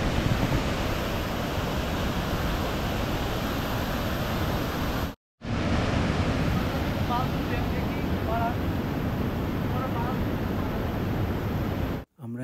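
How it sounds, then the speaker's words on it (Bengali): Jonha Falls near Ranchi in full flow after heavy water, a dense, constant roar of falling water heard up close and loud, with two brief breaks in the sound. "দেখতেই পাচ্ছ আমার পিছনে, ও জোনা ফলস।"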